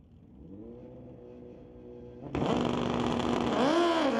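Suzuki and Kawasaki motorcycles rev at a drag strip, a mid-pitched engine drone that jumps abruptly into a loud, broadband roar as they launch, with rising gear-like whines layered on top.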